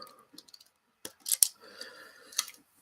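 Wires being snipped off while tinning wires, with a few sharp close clicks and snips, one crisp cut standing out, among small handling noises in an otherwise quiet room.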